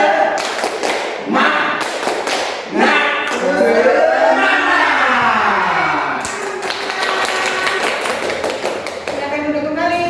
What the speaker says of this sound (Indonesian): Kita akan melakukan tepuk semangat sebelum memulai pelajaran.